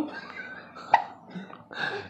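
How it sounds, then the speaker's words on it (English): A young child hiccups once, a sudden, sharp little gulp, close by over quiet, faintly noisy room sound. "They got the hiccups."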